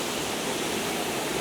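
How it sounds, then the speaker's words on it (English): A waterfall near Alsea Falls, Oregon, heard as a steady, even rush of falling water, continuous and moderately loud, with no voices. "I came to see a waterfall. There it is."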